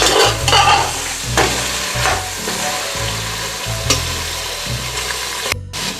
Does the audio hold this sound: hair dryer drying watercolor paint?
no